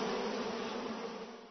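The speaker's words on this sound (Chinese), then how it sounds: "刚才还老老实实待在竹篓里的野蜜蜂几乎全都飞了出来" Wild honeybees taken into a bamboo basket wrapped in a coat make a dense, steady buzzing drone that stays close and loud throughout, with no voices.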